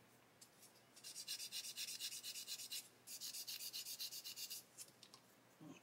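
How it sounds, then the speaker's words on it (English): A plastic part from a 1/72 Meng Harkonnen Ornithopter model kit is polished to remove sanding marks, giving quick, steady back-and-forth rubbing strokes in two bursts, close and fairly faint, with no talk. "we're just going to polish those sanding marks out"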